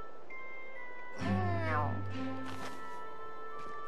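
A fat cat in the Tales of Xillia 2 video game lets out a single short meow, moderately close, over a quiet background hum.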